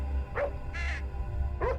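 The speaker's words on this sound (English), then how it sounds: "Hey! Don't bark at me!" Evax the dog in the game Mirador gives three short barks over a steady low hum, close and moderately loud.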